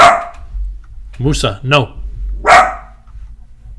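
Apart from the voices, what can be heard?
small dog barking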